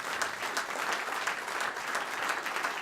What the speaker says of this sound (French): je crois que ça vaut vraiment les applaudissements